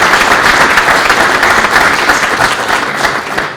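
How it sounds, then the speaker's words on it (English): Steady, loud audience applause fills a room at a chamber of commerce legislative breakfast, continuous clapping from many hands without pause, tapering slightly at the end. "Can we give him a round of applause,"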